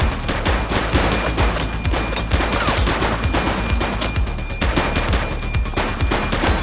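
Rapid gunfire in a police shootout in the video game The Precinct, dense overlapping bursts of sharp loud shots rattling continuously with no pauses.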